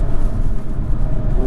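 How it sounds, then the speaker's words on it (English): A Hyundai Kona N engine rev-matching on a paddle downshift, heard as a loud, close engine roar with a quick rising rev near the end. "The rev matching and downshifting is spot on. Very instant. Hit a paddle and it downshifts."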